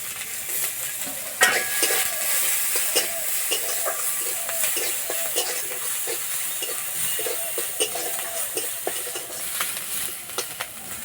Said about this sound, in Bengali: এবার দেবো গ্রেট করা রসুন, গ্রেট করা আদা, পেঁয়াজ কুচি, কাঁচা লঙ্কা কুচি